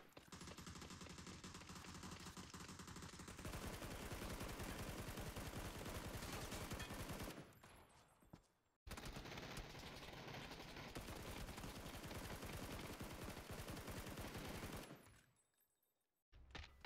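Sustained automatic fire from an M416 assault rifle in the video game PUBG, two long loud bursts of rapid shots each ending in a short pause, with no talk.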